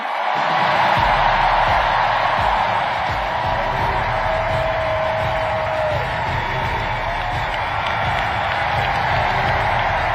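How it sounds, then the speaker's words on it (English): A large rally crowd for Tim Walz at a Harris/Walz campaign event cheers and roars in a continuous, dense wash of noise that lasts throughout. "And here the crowd is excited about a positive message."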